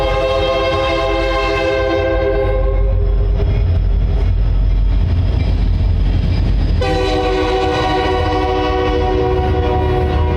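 A Union Pacific freight train passes close by, its loud horn sounding in long sustained blasts with a short break in the middle, over a constant heavy rumble of rolling wagons.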